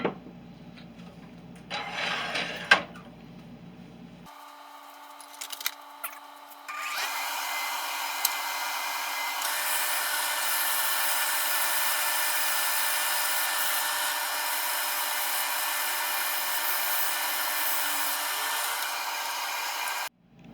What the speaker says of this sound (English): Now that we've got the sanding done on the inside